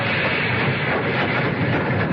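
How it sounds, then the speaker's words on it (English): Sound effect of a train pulling into a station, staged for a radio drama: a steady, dense rumbling wash of rolling noise that holds evenly throughout, with no voices. "I hope she didn't miss the train."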